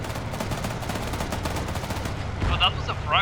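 Rapid, evenly spaced bursts from a vehicle's coaxial machine gun in Arma 3 rattle loudly for about two seconds, then give way to voices near the end with engine rumble persisting underneath.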